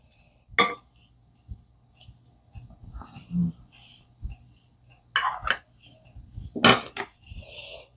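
Pie crust dough being mixed by hand in a bowl: scattered close scraping and clinking of a utensil against the dish, a few sharp knocks between quieter stretches, with soft whispery speech underneath.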